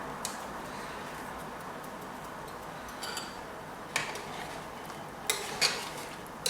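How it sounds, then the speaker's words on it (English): Blended onions and pepper tipped into a pot of assorted meat pepper soup: a few sharp metallic clinks and taps of spoon against pot over a quiet background, spaced out toward the end. "add my blended onions and pepper"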